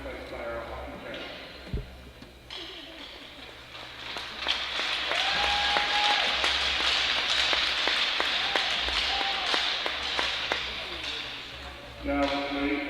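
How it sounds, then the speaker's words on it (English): Applause for hockey parents at a high school hockey game, a rink crowd clapping and cheering that builds after a few seconds and swells loud, with a ringing tone and a voice over the arena speakers. "give a round of applause for all the long hours and early morning sacrificed by our hockey parents"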